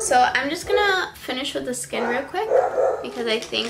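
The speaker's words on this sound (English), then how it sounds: "sorry my dogs are barking" Several dogs bark and yip in the background, mostly masked by someone talking close to the microphone throughout.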